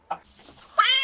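A cat gives two short meows close by, the second higher and more drawn out, in an otherwise quiet room.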